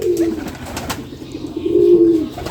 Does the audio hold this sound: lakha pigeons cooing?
yes